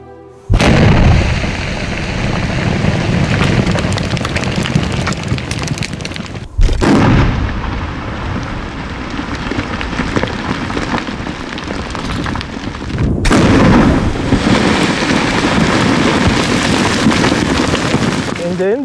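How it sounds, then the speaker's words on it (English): Rock blasting at an emerald mine in Ethiopia gives a sustained, heavy roaring rumble with sudden surges, loud and continuous across the whole stretch with no clear voices. "They are blasting during lunchtime."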